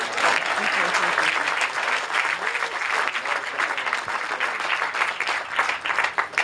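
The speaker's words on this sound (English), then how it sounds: "That deserves a round of applause" Audience applause at a Contraband commemoration event at Fort Monroe, a steady, dense wash of many hands clapping that holds loud and even for the full stretch.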